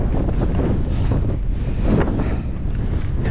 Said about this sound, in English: Back in the wind.